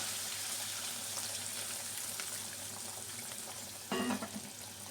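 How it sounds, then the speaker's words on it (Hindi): Hot water pours into a pot of mutton qorma, a steady liquid rush with a brief louder splash near the end, close and moderately loud. "2 कप मैंने पानी गर्म किया और हमें इसमें"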